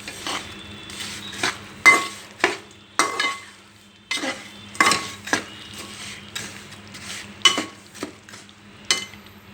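Melting jaggery for sesame laddu is stirred in a pan, with repeated clinks and scrapes of a spoon against metal in an irregular rhythm over a quiet background.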